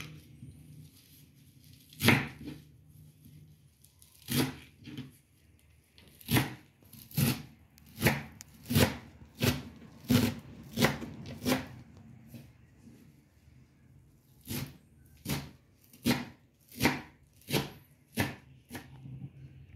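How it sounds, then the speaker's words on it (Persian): A knife chops fresh herbs on a board for a cauliflower pickle, with sharp, crisp strikes close by, a few spaced cuts at first, then steady rhythmic runs separated by a brief pause. "میریم سبزیامون رو خورد کنیم"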